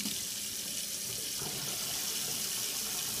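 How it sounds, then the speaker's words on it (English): A tap runs steadily into a sink, filling it with water for washing cut-up HDPE milk bottle plastic, a constant close hiss and splash with no talk. "fill the sink with some water,"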